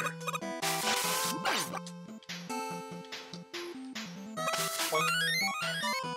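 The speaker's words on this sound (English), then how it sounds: "That's the sound of a Protoman." Protoman's whistle melody from the video game Mega Man 10, a bright chiptune tune of quick stepping notes with sweeping zaps, clear and alone with no talking.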